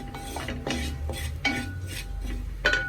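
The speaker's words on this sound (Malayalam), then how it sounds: "ഈ ശർക്കര ഒഴിച്ചു കൊടുക്കാം" Jaggery is poured over dried grated coconut in a pan, with spoon knocks and clinks against the metal and a soft scrape in between, close and moderately loud.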